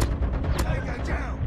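An M4 fires in Call of Duty Mobile multiplayer, loud and close, in rapid automatic bursts of sharp shots with a booming tail. A voice can be heard faintly under the shooting.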